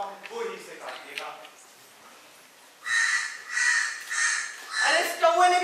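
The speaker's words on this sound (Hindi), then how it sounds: "अरे इस कौवे ने भी परेशान करके रख दिया है।" Harsh repeated caws from a crow near a guava tree at an outdoor children's play, several loud calls in quick succession after a stretch of people talking.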